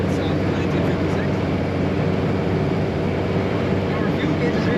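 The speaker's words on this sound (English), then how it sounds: "This car starts up easily and idles nicely right away. It's got a nice little thump to the exhaust." A 1956 Ford Crown Victoria idles with a steady low exhaust thump, a continuous even rumble at close range with no breaks or revving.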